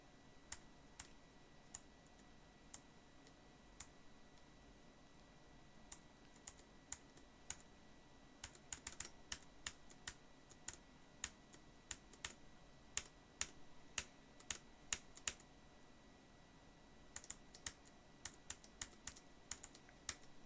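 Rapid clicking on a Corsair K70 mechanical keyboard during Geometry Dash play, with sparse single keystrokes early that bunch into quick bursts, close and fairly quiet over a low background hum.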